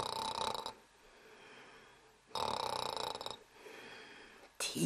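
A storyteller imitates a sleeping tiger's soft snoring, two breathy, drawn-out snores separated by quiet pauses, close and fairly loud, with a third beginning at the end.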